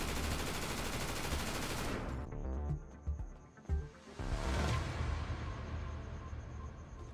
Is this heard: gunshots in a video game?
yes